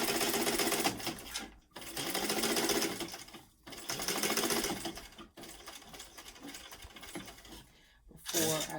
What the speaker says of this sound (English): I'm going to make sure I keep that pleat at the bottom as I sew across the bottom here.